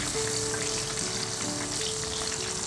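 Paneer popcorn frying in hot oil over a lowered flame, a steady dense sizzle with fine crackling bubbles running evenly throughout, close and fairly loud with no talk.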